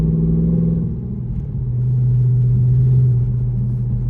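A 2009 Dodge Charger SRT engine rumbles low and close under throttle, a deep steady drone that dips briefly then swells as it pulls away.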